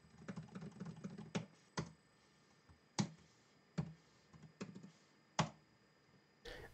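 Typing on a computer keyboard while entering assembly mnemonics for a homebuilt Minimal UART Computer: a close run of quick clicks, with several sharper, louder key strikes spaced about a second apart, and no voices.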